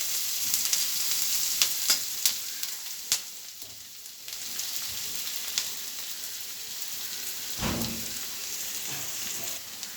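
Onions fry in a pan for egg chops, browning alongside green chillies, with a soft continuous sizzle broken by sharp crackles and pops and a few clatters of stirring.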